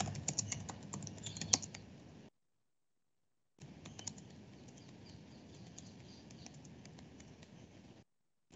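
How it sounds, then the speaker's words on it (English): Typing on a computer keyboard, with rapid soft clicks of keys in a quiet room, a brief pause of silence, then steady continuous typing that resumes, faint and close. "Now I'm typing the question."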